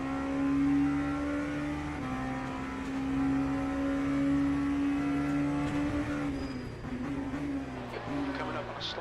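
Steady, droning V8 race car engine from the F1 25 video game, a sustained high-revving tone with small pitch shifts, loud and continuous beneath a commentator's talk.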